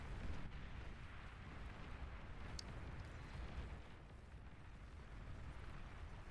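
A fusion building destroyed by atomic bombers in Beyond All Reason, heard as a faint, continuous low rumbling explosion with crackling debris lasting several seconds at a distance.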